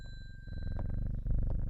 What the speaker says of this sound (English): Let's pet the cat again.